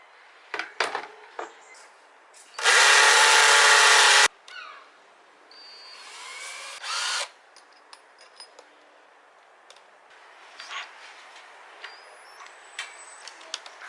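A power drill boring through an old tubeless motorcycle tyre gives one loud, harsh burst of about two seconds, then a shorter whine. Scattered clicks and handling noises come before and after, with no speech.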